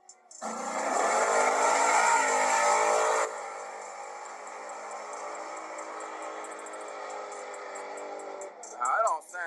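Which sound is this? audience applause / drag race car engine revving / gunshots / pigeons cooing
drag race car engine revving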